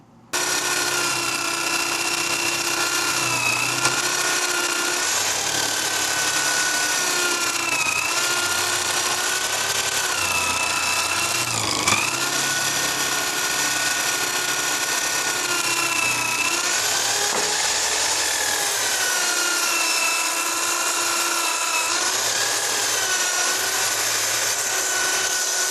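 A wood bowl is turned on a table saw jig, giving a continuous loud, high whine with slight pitch dips as the blade cuts into the spinning wood, steady for about half a minute.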